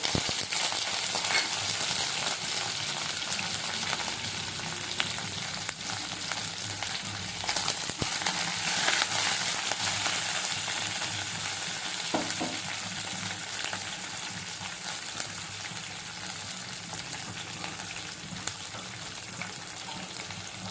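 Curry leaves splutter in hot oil while tempering Telangana-style okra, giving a continuous crackling sizzle with scattered sharp pops and stirring scrapes, moderately close and with no talking.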